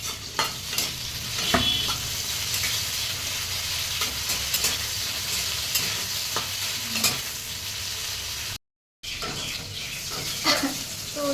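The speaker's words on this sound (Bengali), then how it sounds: "চিংড়ি মাছটা একটু ভেজে নিই" Prawns fry in a pan with a close, steady sizzle, punctuated by frequent scraping stirs and clatters of a spatula, and a brief silent gap near the end; no speech.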